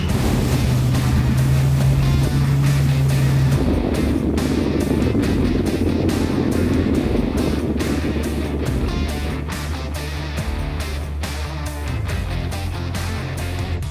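Dozens of bass fishing boat engines idle together in a lock in a low, steady rumble with lapping water, a constant mechanical drone that holds without pause.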